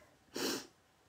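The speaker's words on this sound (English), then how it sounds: "I get on live and I have to sneeze and everything else." One short, sharp sneeze, faint and close, bursting out briefly in a quiet room with no talking around it.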